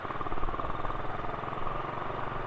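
A motorcycle engine runs steadily near the port of Batangas, a close, even mid-pitched putter with no voices over it.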